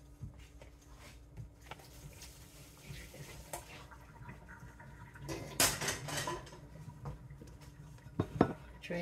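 Cooked ramen noodles are drained into a bowl with soft clinks of dishes and utensils and a brief burst of pouring water, faint and close, under quiet talking.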